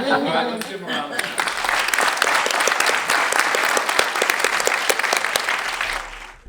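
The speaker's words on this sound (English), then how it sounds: "let's give him a round of applause" An audience at a dispute resolution symposium bursts into sustained applause after a short spoken bit, dense clapping that fills the room for several seconds before fading out.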